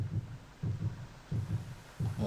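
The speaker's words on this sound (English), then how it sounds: "Why is there a heartbeat sound?" Heartbeat sound effect in the PS1 snowboarding game Cool Boarders 2, heard as four low double thumps at a steady, slow rhythm, moderately loud and alone.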